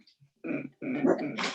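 A pet dog barks and whimpers in short, close bursts indoors after being struck with rubber bands, with a brief pause before a longer run of agitated yelps and whines.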